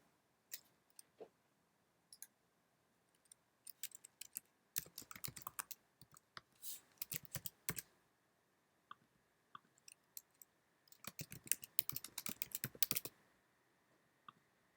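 Bursts of typing on a computer keyboard while entering details into a family history record, quick irregular clicks in clusters with pauses between, close and fairly quiet, no talking.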